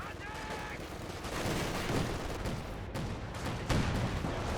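Dense rifle and machine-gun fire crackles from Grenadiers and Pioneers fighting in a Company of Heroes 2 battle, a steady loud barrage with bursts overlapping and no clear gaps.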